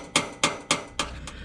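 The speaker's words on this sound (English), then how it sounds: "and then just tap it with the hammer" A hammer strikes a rivet nut tool setting a 1/4 riv nut during a 5th Gen 4Runner extended-range fuel tank install, giving five crisp, evenly spaced metallic taps close by with short ringing decays.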